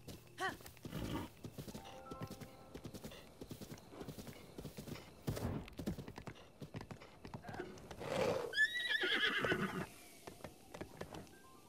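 A horse in The Legend of Zelda: Breath of the Wild trots with steady clip-clopping hooves and lets out a loud neigh and whinny near the end, all close and clear with no talk over it.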